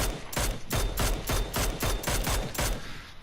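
Rapid automatic fire from an M416 rifle in PUBG on PS4, fitted with an extended magazine: about ten sharp, loud shots in a steady rhythm over roughly three seconds, close and alone with no voices.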